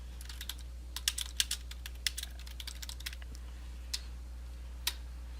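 Computer keyboard keys clatter in quick irregular bursts of crisp clicks, then slow to a few isolated taps, close and moderately quiet over a steady low electrical hum, with no talking.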